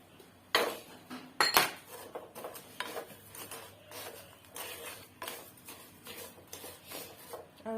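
Metal utensils clink and scrape against a pot while sugar goes into olive jam, with a few sharp knocks early on, then softer irregular taps and stirring scrapes, fairly quiet and close.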